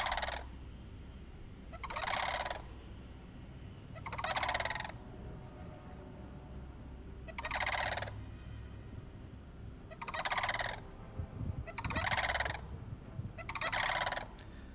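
Turkeys gobble in repeated bursts, about seven calls spaced a second or two apart, over a low background rumble, ahead of Hurricane Milton.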